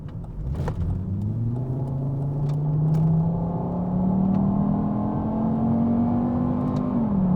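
A 2003 Volvo T5 engine revs steadily through an upgraded exhaust, its rising drone holding loud and close for several seconds before dropping off at the end.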